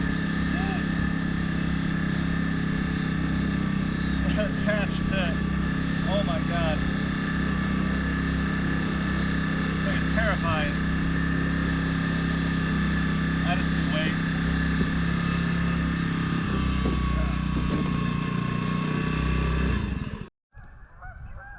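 A HANGKAI 53.2cc outboard motor drones steadily on an old Coleman canoe out on the water, with occasional goose-like honks and voices over the continuous engine hum until it cuts off.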